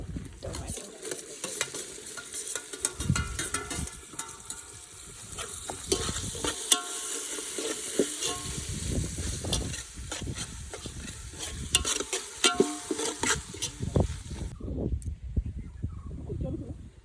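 Onion, garlic, masala and tomato frying and being stirred in a pan outdoors in a forest, with steady sizzling and scraping stirs over background noise, and people talking intermittently nearby.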